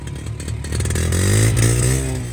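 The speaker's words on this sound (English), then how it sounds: "rev her up" A four-wheeler ATV engine revs up loudly and close by, rising in pitch for about a second and then settling back down, with some clatter at the start.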